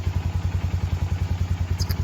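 A Polaris Ranger exhaust quieted with a wad of steel wool stuffed in the tip, idling with a steady, even low putter, close and fairly loud, with a faint click near the end.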